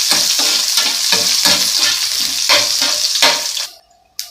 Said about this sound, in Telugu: అది వేగుతుంది.